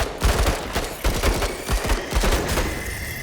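A soldier's gun fires in rapid bursts in an XCOM-style turn-based strategy game, a loud, dense volley of repeated shots running continuously for about three seconds with no talk over it.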